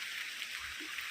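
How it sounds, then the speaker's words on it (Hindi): Light rain falls steadily in a village setting in India, a soft, even hiss of fine drops with no voices, faint and continuous throughout. "और दोस्तों अभी थोड़ा थोड़ा बारिश होने लगा"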